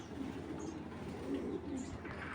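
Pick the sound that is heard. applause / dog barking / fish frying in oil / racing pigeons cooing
racing pigeons cooing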